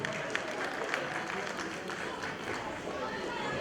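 Audience applause welcomes a performer named Kanchan at a Nari Shakti Award music event in Pyare Lal Bhawan, Delhi: a steady, dense wash of clapping with crowd chatter mixed in, holding at an even level throughout.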